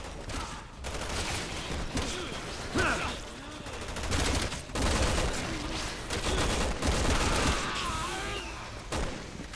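Gunfire from the Resident Evil 6 video game comes as dense rattling bursts and booms mixed with other game effects, continuous and moderately loud throughout.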